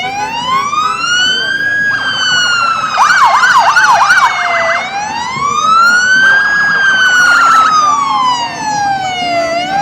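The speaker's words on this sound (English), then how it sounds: "Okay, you ready for those sirens? Here comes our Clark Police Department." Loud wailing sirens from Clark Police Department vehicles rolling through a Memorial Day parade, slow rising and falling sweeps broken by a rapid yelp burst, close and continuous with engine noise underneath.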